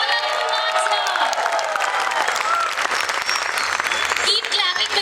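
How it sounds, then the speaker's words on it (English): Parents in an audience applaud their young children at a jungle-themed show finale, a dense, steady wash of clapping that fills the whole stretch, with scattered voices and children's shouts mixed in. "Let's clap for all our little ones here."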